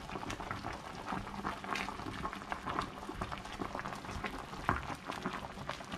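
A pot of pork tripe bubbles at a steady boil, with irregular popping and gurgling bursts, fairly quiet and close, no talking.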